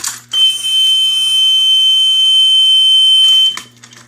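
A Simplex fire alarm sounds a steady, continuous electronic tone, muffled by tape placed over it. It runs loud and unbroken for about three seconds, then cuts off and is followed by faint handling noise.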